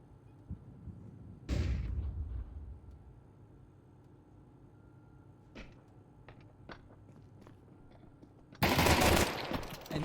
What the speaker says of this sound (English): And here comes the shooting.